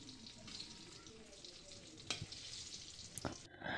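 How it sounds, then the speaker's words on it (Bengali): Eggplant slices fry in hot oil in a home kitchen, giving a faint, steady sizzle with a few sharp clicks and knocks from utensils, and a louder clatter near the end. "এরপর ওই তেলে বেগুনগুলো ভেজে নিচ্ছি।"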